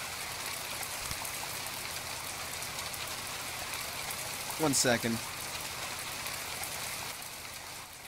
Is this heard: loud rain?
yes